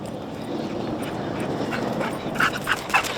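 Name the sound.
search dog finding a person during demonstration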